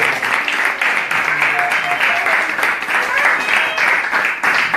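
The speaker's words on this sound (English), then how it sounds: "let's give Durgesh a big round of applause as well" An audience at a Sunday spiritual talk gives a round of applause for a child named Durgesh, with sustained clapping, moderately loud, while faint voices and a few tonal sounds rise briefly underneath.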